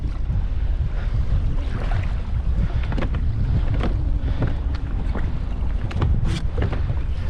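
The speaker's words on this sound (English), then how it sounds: "Wind is picking up a little bit" Steady wind rushes across open Pacific water offshore, a constant broadband roar with faint splashes and creaks of a fishing kayak; no one speaks.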